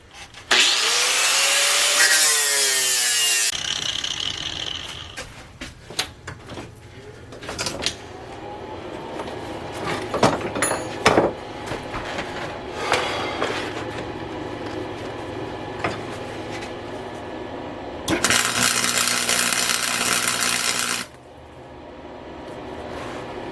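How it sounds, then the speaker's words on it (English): A drill bores through stacked steel saw blade plates in a workshop: two loud, sustained bursts of grinding whine, the first rising in pitch, separated by quieter clanks and knocks. "I'm going to drill them while they're together"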